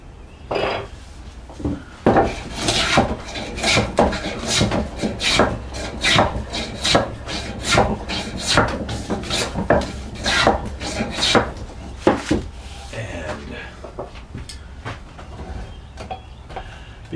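A hand plane works the edge of a wooden rear chair stile in repeated, rhythmic scraping strokes, loud and close, each stroke a short rasping burst.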